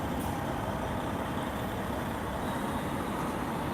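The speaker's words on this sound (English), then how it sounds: "bus here. Sorry about that noise." A big bus passes on the road outside, a steady broadband engine and road rumble that stays fairly loud and constant for a few seconds with no talk over it.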